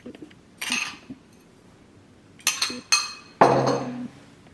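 Spoonfuls of sugar going into a mixing bowl for crêpe batter, heard as a few separate clinks and scrapes of a metal spoon against the bowl, close and fairly loud with quiet gaps between them and no talking.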